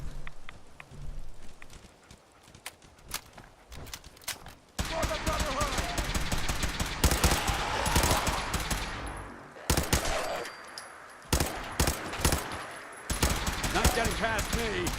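Gunfire in the Fallout 4 video game, quiet at first, then dense bursts of automatic fire and rapid single shots dominate for about ten seconds, with brief pauses between volleys.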